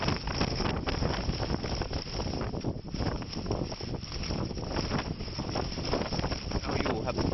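Strong wind buffeting a K2 camping tent, a continuous loud roaring rush with gusty surges and fabric flapping noise, steady across the whole stretch.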